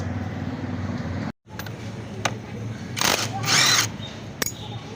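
The magnet nut on a Honda CG125 engine is loosened with a tool, producing a steady mechanical whir, a brief stop, then sharp, loud bursts of noise close by.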